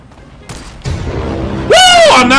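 Gunfire in the battle-royale game Fortnite during a squad match, a burst of shots and booms that swells partway through and grows louder toward the end, mixed with other game effects.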